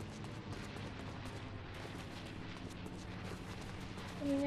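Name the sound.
gunfire in Fortnite video game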